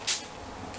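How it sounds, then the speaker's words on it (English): A single short burst of aerosol makeup setting spray hisses near the microphone, then fades into quiet room tone. "That is such an aggressive spray."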